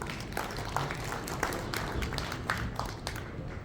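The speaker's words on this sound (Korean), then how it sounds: "박수 부탁드리겠습니다." An audience applauds at a forum breakfast seminar after an advisor appointment is announced. Dense, even clapping continues throughout at moderate distance with no speech over it.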